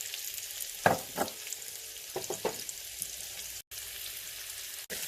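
Small chopped onions fry in a pan, giving a soft, steady sizzle with a few sharper scrapes and stirring clicks, close and fairly quiet, with no voices.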